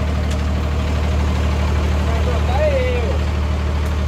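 A new, not yet broken-in scooter engine idling as it warms up, a steady low rumbling hum close by, with brief faint talk in the background.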